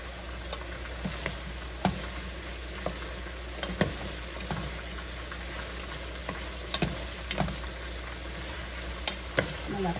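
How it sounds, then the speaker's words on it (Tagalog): Chicken pieces fry in a covered pan of mixed vegetables and beancurd, giving a steady close sizzle with scattered sharp pops and spatters, plus occasional stirring scrapes, with no voices. "maluto na rin lahat yung manok na piniprito natin"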